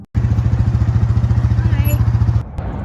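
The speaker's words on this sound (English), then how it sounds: "just before the sound of an engine interrupts the silence" A motor engine runs close by with a steady, rhythmic throbbing idle, then cuts off abruptly, leaving quiet background.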